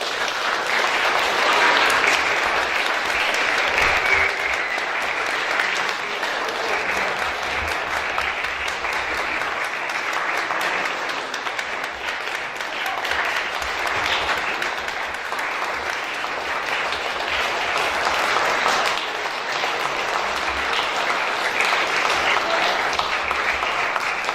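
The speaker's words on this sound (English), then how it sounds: "give them a big round of applause" A large audience applauds speakers invited onstage at a prize event, a dense, steady wash of clapping that holds loud for about 24 seconds with only faint voices underneath.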